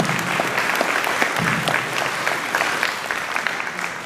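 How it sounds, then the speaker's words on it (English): A crowd at an evening community event applauds to welcome someone, steady dense clapping sustained for several seconds at moderate loudness, with no one speaking over it. "Let's give Charlene a welcome applause."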